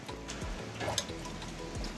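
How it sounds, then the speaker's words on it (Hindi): Steady rain falls through a whole day, a faint soft hiss of drops with a few brighter pattering taps, quiet and continuous with no voices. "पूरे दिन भर बारिश लगी है।"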